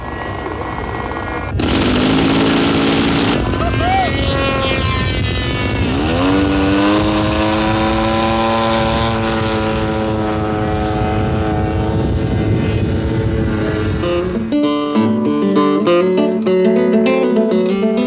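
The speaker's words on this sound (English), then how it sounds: "for would-be pilots who like to fly their own, there are even radio-controlled model planes" A radio-controlled model plane flies with a loud, continuous buzzing engine drone that rises and falls in pitch as it passes, later giving way to a pulsing, choppy tone.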